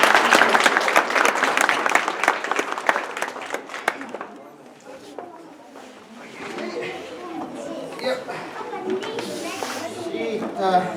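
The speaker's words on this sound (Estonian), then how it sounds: "Teeme aplausi ka." An audience at a children's Christmas verse performance breaks into lively clapping that fades after about four seconds, followed by murmured chatter and children's voices in the room.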